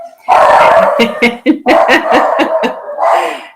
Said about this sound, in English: I think there might be some dogs going past. I've got mine going off now.